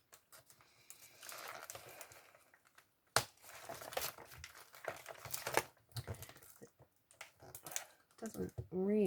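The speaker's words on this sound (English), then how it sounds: "Take the packaging off so the glare is less." Plastic packaging is crinkled and pulled off an embossing folder in bursts of close crackling and rustling, with pauses between and a voice talking briefly near the end.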